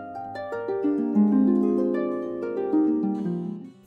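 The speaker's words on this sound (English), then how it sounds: "Can you find the harp?" A harp plays a short descending run of plucked notes in a children's musical listening game. The notes ring and overlap, then fade at the end, soft and alone with no talking.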